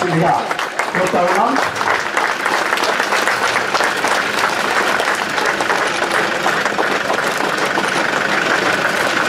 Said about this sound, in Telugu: క్రీడాకారులందరూ చప్పట్లతో స్వాగతం